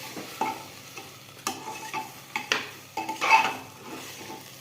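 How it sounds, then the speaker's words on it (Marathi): A spoon scrapes and knocks repeatedly against a pan while rice with vegetables, spices and salt is stirred, close and rhythmic, with a light sizzle underneath. "तांदूळ टाकले की चारी बाजूने असं हलवून घेऊया."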